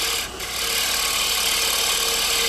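A round nose scraper tilted about 45 degrees is drawn slowly across a wooden surface in a shear scraping cut, giving a steady, close, dry hiss of tool rubbing and shaving wood with no voices.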